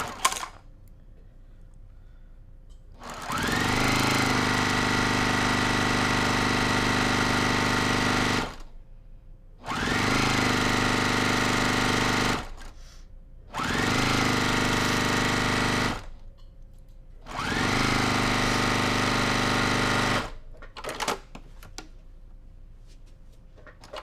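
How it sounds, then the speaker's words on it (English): A sewing machine runs fast in four long sustained bursts, stitching two pieces of fabric together with a quarter-inch seam, each run a steady buzzing rattle with short pauses between, close by and with no talk. "I'm just going to use a 1/4 inch seam, and I'm going to go really fast."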